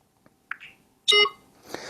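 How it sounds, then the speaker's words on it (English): Short electronic beeps from an iPhone scanning app used to identify items, a faint tick first, then a brief tone and a louder, harmonically rich beep, followed by a softer chirp in a quiet room. "We heard a beep and it told us it's now scanning."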